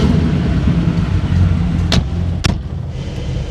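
A 1985 Porsche 911 G-model with bigger turbos, a bigger intercooler and bullet exhaust idles with a loud, deep, steady rumble close by, broken by two sharp clacks near the end as the rumble eases slightly.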